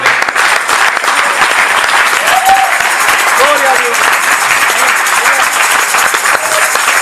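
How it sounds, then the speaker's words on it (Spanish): Church congregation clapping loudly during a Spanish-language sermon, a thick continuous wash of many hands, with voices calling out over it. "Dele fuertes palmas al Rey."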